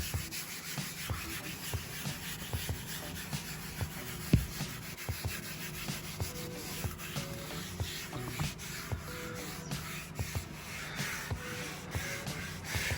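Interior protectant is rubbed into a car's interior surface by hand, a steady soft scrubbing with repeated light strokes and small taps, close and fairly quiet, with no talking.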